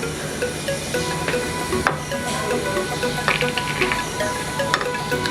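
Chopped carrot, capsicum and onion go into a hot pan for vegetable cutlets, setting off a loud, steady sizzle with scattered light clinks and taps close by.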